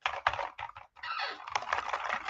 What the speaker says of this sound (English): This to me is very loud and clacky, and which is what you want out of a keyboard.